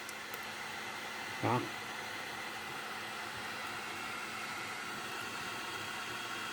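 A heat gun blowing hot air on a GoPro Hero 8 during lens replacement: a constant whooshing hiss of air, moderately loud and steady, with a brief voice partway through.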